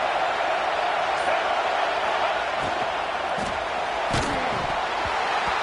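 A football stadium crowd roars against the visiting offense, a loud and constant wash of noise that fills the whole stretch, with a few sharp thuds breaking through.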